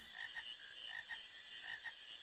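Repeated frog croaks from the video game Final Fantasy IX, rhythmic pulses recurring roughly every half second over a continuous buzzy drone, fairly quiet and with no talking.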